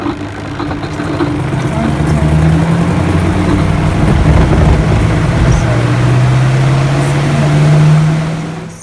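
A Hisense twin tub washing machine on its spin cycle gives a loud, steady motor whir whose pitch slowly glides upward, running continuously for several seconds before it starts to wind down.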